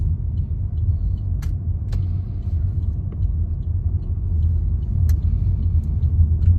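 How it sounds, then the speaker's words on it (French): An Opel Crossland X accelerating firmly and then braking hard on an open road, a steady loud engine and road rumble with a few faint clicks and squeaks on top, close and continuous. "le but c'est de faire une accélération un petit peu plus franche avec pareil un freinage assez fort"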